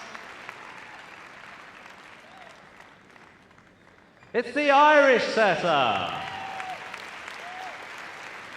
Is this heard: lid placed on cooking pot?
no